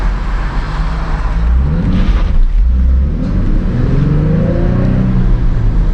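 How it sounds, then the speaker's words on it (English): A stock Nissan 350z accelerates hard on a wet backroad, its engine revving loudly from inside the cabin with a rising drone, a brief dip as traction slips, then climbing again through the gears. "We got a little bit of a wheel spin right there."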